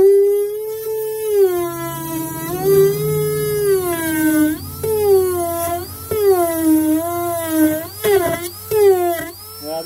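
A sanding disc grinds the hull of a 1999 SPX 951 jet ski, producing a loud, close, whining tone that rises and falls as the tool is pressed and moved across the material.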